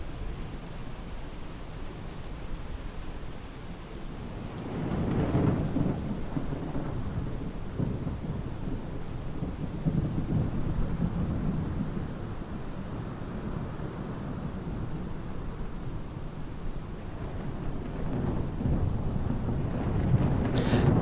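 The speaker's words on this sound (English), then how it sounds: "Here's Keflavik in the rain, and the ground looks very good when it's wet." Steady rain pours over Keflavik airport in the Microsoft Flight Simulator 2020 game, a dense wash of hiss with low rolling thunder swelling and lingering under it throughout, no voices.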